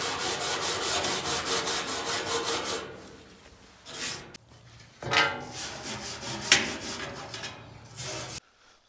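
Rasping sanding and scraping on an old cottage fireplace being stripped before painting, with steady rhythmic back-and-forth strokes early on, then irregular bursts of rubbing and brief pauses, close and fairly loud.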